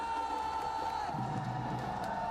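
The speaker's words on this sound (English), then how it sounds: "make some noise!" A large indoor crowd at a PUBG Mobile World Cup grand finals watch party roars and cheers steadily, a dense wash of voices with scattered whoops, loud and continuous throughout.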